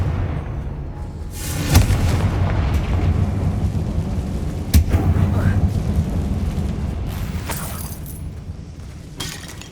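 Confringo fire spell blasts inside an abandoned mine in Hogwarts Legacy, with sharp explosive bursts near 2 and 5 seconds over a steady rumbling game backdrop and a later crackle, loud and close.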